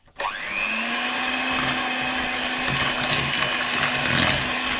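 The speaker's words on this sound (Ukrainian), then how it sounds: "150 грам цукру. Це все збити міксером. Буде гучно." Electric hand mixer whipping sugar with eggs for a honey cake, a loud steady motor whine that starts abruptly and runs continuously at close range, with no talking.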